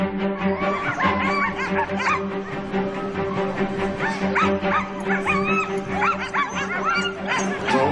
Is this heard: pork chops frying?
no